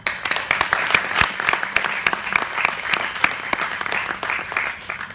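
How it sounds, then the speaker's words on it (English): An audience applauds at a Career Discovery 2015 presentation, with steady, dense clapping from many hands that holds at moderate loudness for the whole stretch. "So a round of applause for USAP, please"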